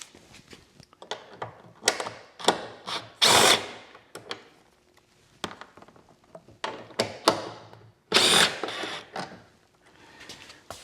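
A power tool zips out 10mm bolts holding the taillight of a 2026 Subaru Outback, heard as short, close, loud whirring bursts separated by quiet gaps, with no talking.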